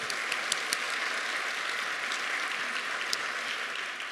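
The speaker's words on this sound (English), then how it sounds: "Give yourselves a round of applause" A crowd of teachers at a school awards ceremony applauding themselves, steady, moderately distant clapping that stays even for the whole stretch, with a few crisp individual claps standing out.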